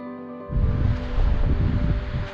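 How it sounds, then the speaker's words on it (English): Strong wind at Great Sand Dunes National Park buffets the microphone after a quiet first half-second, becoming a loud, continuous, rumbling roar with gusty swells. "Ooh, and it's so windy"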